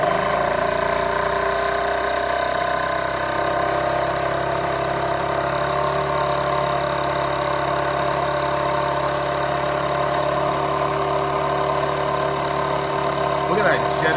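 A Jensen Model 75 toy steam engine runs flat out, driven by a hand crank charger, giving a steady, continuous whirring drone with a strong hiss that stays constant and close throughout, with a few faint voices underneath.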